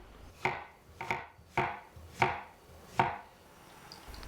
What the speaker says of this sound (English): Cut eggplant into bite-sized pieces. Remove mushroom core and slice them.